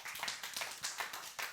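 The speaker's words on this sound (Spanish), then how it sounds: "Denle un aplauso al Señor." A church congregation claps in unison with quick, rhythmic hand claps, moderately distant and fairly quiet, with no talking over it.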